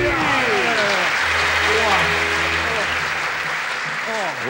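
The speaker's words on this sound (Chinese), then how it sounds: "掌声鼓励！" A studio audience at a Taiwanese TV variety show applauds in a dense, steady wash of clapping that runs the whole time, with a low hum underneath and a brief excited exclamation from a voice.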